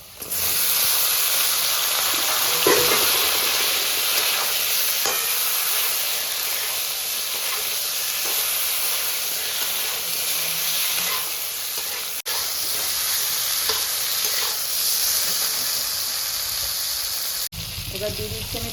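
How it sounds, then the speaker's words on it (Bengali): Okra, or ladyfinger, frying in a pan with potatoes, a loud continuous hiss and sizzle heard up close, broken by occasional stirring scrapes and a sharp clatter near the end. "এবার আমি ভেন্ডিগুলো দিয়ে দিচ্ছি।"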